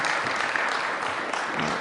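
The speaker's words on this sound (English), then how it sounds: "let's give another round of applause to Dr. Kane for everything he's done" Audience at a governor's press event applauding a doctor, a steady dense wash of clapping throughout, fairly loud and continuous.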